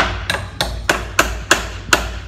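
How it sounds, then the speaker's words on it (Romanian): Hammer striking a fitting during small modifications at a skateshop: seven sharp, evenly spaced blows at close range, each a crisp metallic knock, with no talk over them. "Să mai dau un pic de ciocan aici."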